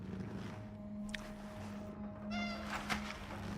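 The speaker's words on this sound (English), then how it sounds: "Okay. Cat. The cat." A cat in Cronos: The New Dawn gives a couple of faint meows over a low steady hum, distant and quiet, with no talking.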